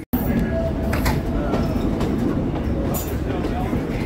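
A 1949 St. Louis Car Company Streamliner trolley runs at a trolley museum with a loud, close, continuous rumble and rattle of wheels on track, broken by occasional higher squeals and clicks.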